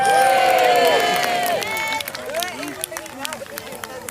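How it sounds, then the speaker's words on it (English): A crowd at an outdoor autumn festival cheers and whoops, loud at first and tapering into scattered shouts and calls, with excited voices mixed through the noise. "Give him a cheer, Grimsby."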